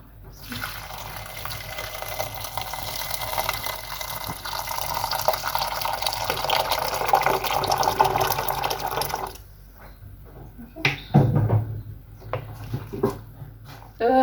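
Water is poured for a tagine dish, a steady, close gushing rush lasting about nine seconds before stopping abruptly, followed by a few soft clinks and knocks.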